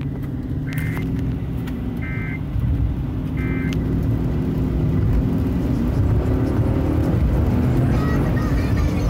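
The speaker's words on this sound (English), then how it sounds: "Start the car." A car engine running at a steady idle, a continuous low rumble that steps up slightly in level partway through, with a few brief higher beeps or chimes over it.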